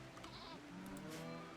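Goats in the video game Rimworld bleat in a short burst, several quick, wavering calls overlapping over a steady game background.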